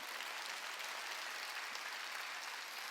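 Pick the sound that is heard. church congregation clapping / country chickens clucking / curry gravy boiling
church congregation clapping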